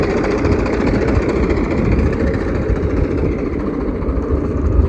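Tractor engine running in a field, a dense rough chugging rumble that stays loud and steady throughout, with no voices.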